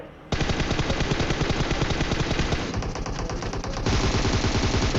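Rapid automatic gunfire rattles loudly and without a break in a battle royale shooter game, with the bursts changing slightly in tone partway through.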